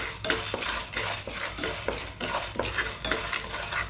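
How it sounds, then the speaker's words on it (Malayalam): Chana, toor and urad dal dry-roasting in a pan for Udupi sambar, stirred with a utensil in steady, rhythmic scrapes and light clinks against the metal, close by with a faint sizzle and no voices. "മൂന്നും ചുമക്കൊന്ന് വറക്കണം."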